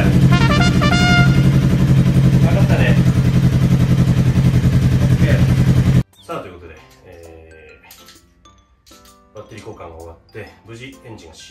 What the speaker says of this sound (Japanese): 無事エンジンが始動ということで